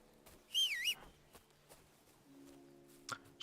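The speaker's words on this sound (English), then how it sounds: "Just ignore that whistle while trying to be stealthy." A short warbling whistle sounds once in the medieval game Kingdom Come Deliverance 2. It is fairly faint and lasts under half a second, followed by soft scattered game noises.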